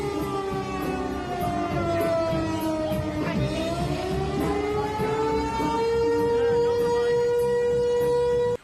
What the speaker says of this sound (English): That's a tornado warning.